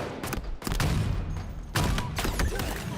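Sniper rifle shots ring out during a Halo match, several loud, sharp blasts spaced about a second apart, each trailing into a booming echo.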